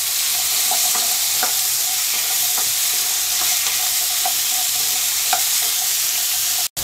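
Potatoes spiced with turmeric and salt fry in a kadai, giving a steady, loud close sizzle with soft scattered clicks of stirring throughout, no voices.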